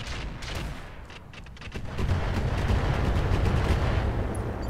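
Mech weapons fire in the video game Roguetech as a rapid series of sharp, cracking shots, followed by a louder sustained barrage of booming impacts and rumbling, dense and continuous.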